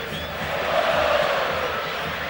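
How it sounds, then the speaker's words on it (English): Dense, steady roar of a large Brazilian football crowd applauding and cheering in a standing ovation at a stadium, sustained and loud throughout with no single voice standing out. "a Brazilian, or rather Argentinian player receiving a standing ovation from a Brazilian crowd"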